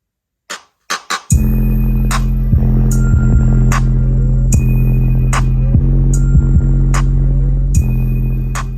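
A bass-heavy electronic track plays loudly through a mini amp and speakers: a few sharp taps, then a steady, droning low-end throb with periodic clicks and ticks, continuous and close.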